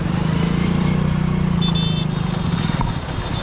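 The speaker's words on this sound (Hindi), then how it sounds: "यहाँ पे बाइक भी चलती है" A motorcycle engine hums steadily while riding across an old bridge near a waterfall outside Pune, a moderately close, continuous droning buzz that eases slightly toward the end.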